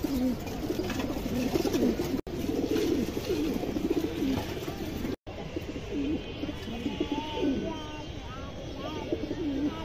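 Silver pigeons coo steadily in a loft, close and continuous over a low background, with a voice talking over them through much of the stretch.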